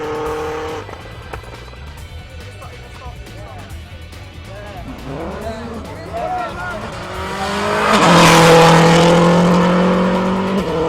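A rally car races along a stage road, engine revving and rising in pitch through gear changes, growing louder as it nears and passes close by, with a voice talking over the earlier part.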